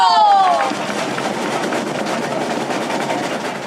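Applause from a live audience at an outdoor community event with a batucada performance, a broad steady wash of clapping and crowd noise that opens with a brief whistle-like tone, with talk faintly underneath.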